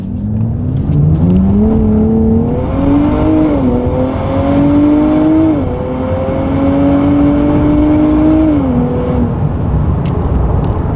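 A 2023 Nissan Z accelerates hard out of a corner, its engine note climbing through rising revs, with a brief shift and dip before pulling up again, loud and steady from inside the car.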